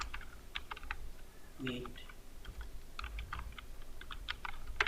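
Keyboard keys tapping on a computer while typing into Google Docs, quick irregular bursts of clicks throughout, close and fairly soft, with a brief spoken word partway through.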